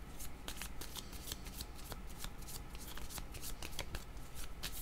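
Tarot cards are shuffled close by in a steady stream of quick, crisp riffles and slaps that continue without a break throughout.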